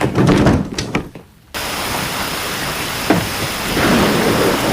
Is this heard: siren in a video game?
no